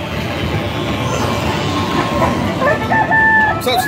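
A recorded rooster crow rings out from a chicken-themed arcade game machine at Gatti Town in Hattiesburg, a short tonal call near the end of the clip, standing out over the constant loud wash of arcade noise and crowd din.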